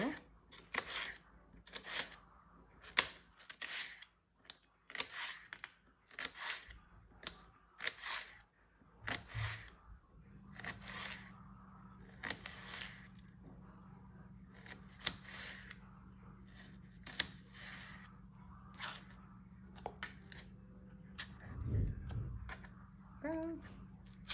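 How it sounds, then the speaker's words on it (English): Knife cutting a purple shallot into thin strips on a board, a fast regular series of crisp chopping taps close by, with a low hum joining partway through and a light clatter near the end. "Now this is a purple shallot that I'm going to cut in thin strips as well."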